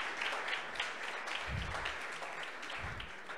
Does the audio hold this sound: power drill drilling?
no